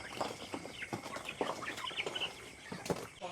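Sonali chickens on a poultry farm cluck and call continuously, a dense chorus of many birds with occasional wing flapping, close and steady throughout with no talking.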